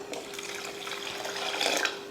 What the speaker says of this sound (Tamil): இப்போ புளிப்பு காரெல்லாம் பார்த்துட்டு தண்ணி சேர்த்துடலாம்.